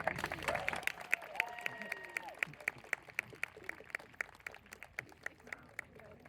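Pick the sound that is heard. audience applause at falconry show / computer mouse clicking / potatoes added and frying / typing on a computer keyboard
audience applause at falconry show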